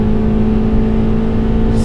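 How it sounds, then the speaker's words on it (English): A 2004 Mitsubishi Lancer Ralliart engine held at full throttle in third gear, a loud steady high-rev drone with a strong constant tone and a whirring edge, heard alone without speech. "It revs up nice."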